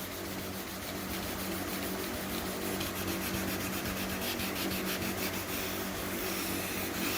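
Hand sanding paint on a Fox Body Mustang body panel with very light pressure: a steady, close, continuous rubbing rasp that holds evenly throughout, with no talking.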